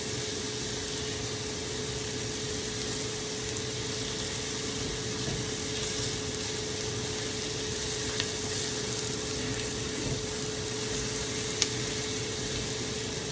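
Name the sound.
onions frying in a pan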